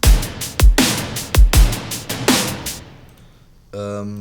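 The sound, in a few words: electronic drums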